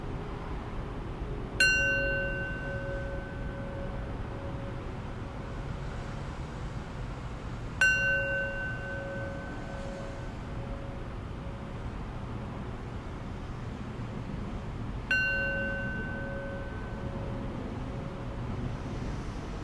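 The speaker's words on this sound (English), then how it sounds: "I'll close practice with 3 rings of the bell." A meditation bell struck three times at the close of a practice, each strike a clear ringing tone that slowly decays over several seconds, spaced about six to seven seconds apart against a quiet background hiss.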